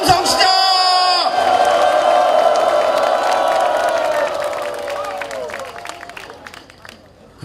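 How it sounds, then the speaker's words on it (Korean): A political rally crowd in Daejeon bursts into loud cheering, shouting and whooping on cue, a dense roar close by that holds for several seconds and then tapers off as clapping fades. "함성 시작!"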